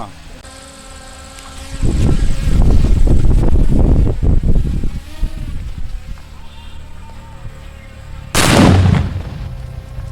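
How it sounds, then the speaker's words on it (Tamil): A firecracker from a fireworks shop goes off outdoors: a loud crackling burst of rapid pops lasting a few seconds, a quieter stretch, then a second sharp blast near the end, with wind noise. "பட்டாசை பற்ற வைப்போமா"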